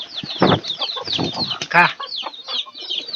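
A flock of young chicks clucking and cheeping close by, with bursts of overlapping calls and a brief flutter, steady throughout without speech.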